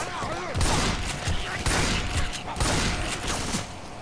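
Gunfire bursts in Left 4 Dead 2, a rapid rattling fusillade of shots that keeps going for four seconds in close, loud bursts, with voices talking over parts of it.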